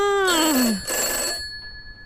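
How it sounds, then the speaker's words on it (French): Telephone ringing in the horror video game I'm Counting to 6, a loud electronic ring with a sliding tone that holds for about a second and then fades into a lingering hum. "Il est où le téléphone?"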